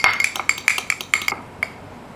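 A whisk strikes the sides of a small metal bowl as egg yolk is beaten into brown butter, giving about a dozen bright, irregular clinks close by that stop abruptly near the end.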